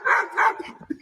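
A dog gives two loud, close barks in quick succession, followed by a few softer yips and whimpers.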